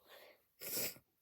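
A single close, loud sneeze set off by tickling the nose with a twisted paper string, with a soft breathy build-up before the sharp burst, then a short quiet tail.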